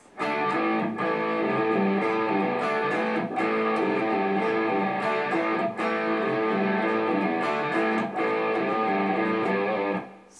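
Electric guitar plays the verse riff of Aerosmith's Sweet Emotion, a steady repeating pattern of chugging low notes with a slightly driven tone, loud and close, phrases recurring about every two and a half seconds.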